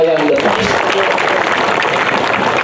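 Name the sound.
crowd applause at political rally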